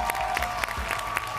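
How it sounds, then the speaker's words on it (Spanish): Studio audience applause on a televised Spanish-language masked singing competition finale, a dense steady clapping close up that fills the whole short stretch. "Un aplauso para la actuación de Muñeca."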